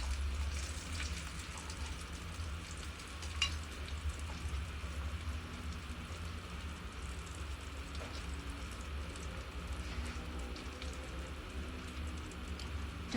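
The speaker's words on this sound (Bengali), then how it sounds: "মাছটা ভাজা হয়ে আসছে" Fish fries in hot oil in a small kitchen, giving a continuous soft sizzle and crackle with occasional sharper pops, fairly faint and steady throughout with no talking.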